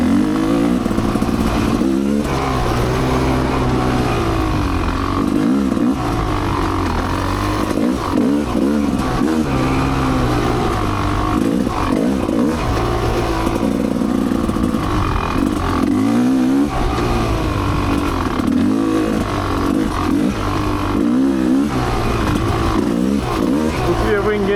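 Off-road motorcycle ridden along a sandy woods ORV trail, its engine droning loud and steady throughout with rising and falling revs as it climbs and descends, close and continuous.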